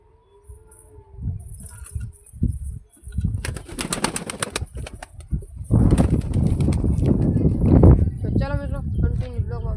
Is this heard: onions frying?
no